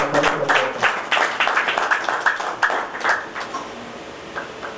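Applause breaks out for a volunteer youth service team at a public event, scattered individual claps rising and falling, fairly close and uneven, with a ringing tone faintly underneath.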